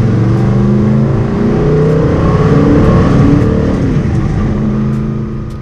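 A 700 hp 1967 Ford Fairlane engine fitted with mufflers revs loudly with a deep, muffled exhaust note, holding steady, then easing off and fading near the end.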